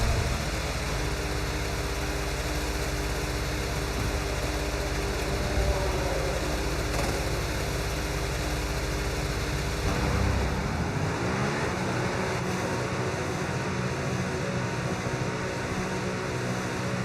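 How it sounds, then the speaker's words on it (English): A race car in a racing video game, one with a boosted overtake mode, holds a steady droning engine tone that shifts and drops near the end. It runs continuously and fairly loud with no talk over it. "so let's get the car out onto the track."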